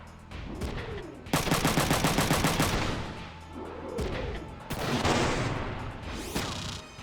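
Mech weapons fire in Front Mission 3, rapid bursts of gunfire in repeated volleys with swooping mechanical whirs between them, loud and close, no speech.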